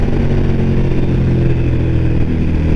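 A 2014 Suzuki V-Strom 1000 motorcycle cruises in sixth gear, its engine a steady, loud, low drone with wind noise, holding an even pitch without revving.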